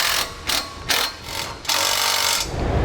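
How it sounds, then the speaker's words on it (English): Bolts being fitted for a spare tire holder during a trailer hitch install on a 2017 Chevrolet, heard as several short bursts of a ratcheting or power-driver whir, the last one longer and sustained. "I'm going to go ahead and put these bolts back in place for my spare tire holder."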